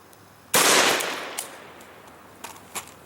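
A 7.62x39 Golden Tiger 124-grain FMJ round fired into ballistics gel: one loud, close gunshot with a decaying tail, then a few faint knocks.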